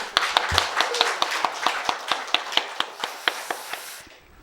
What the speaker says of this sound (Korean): 박수 더 크게 치세요